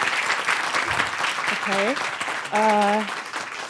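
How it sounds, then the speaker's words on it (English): An audience at a UC Berkeley symposium gives a round of applause after a professor speaks. The clapping is steady and fairly loud, and a voice talks briefly over it. "Round of applause."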